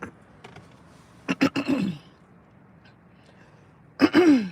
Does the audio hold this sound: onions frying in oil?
no